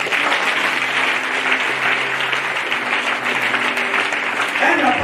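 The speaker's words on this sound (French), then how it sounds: "On acclame Marie." A church congregation applauds and cheers in acclamation of Mary, sustained, dense clapping from a crowd filling the room, with voices mixed into it.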